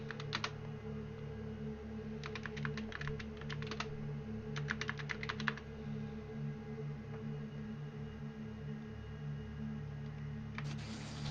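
Keyboard typing as status notes are written during a tabletop Dungeons & Dragons session, with short bursts of keystrokes near the start and again mid-way, a final burst at the end, and a low steady hum underneath.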